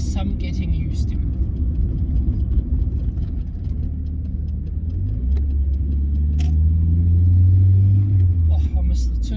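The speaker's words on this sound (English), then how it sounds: "Oh, I missed the turbo noises." A turbocharged Mazda Miata with a 220 whp engine drives along, a steady low rumble that swells and rises in pitch near the end, heard from inside the car, with faint clicks and jangling on top.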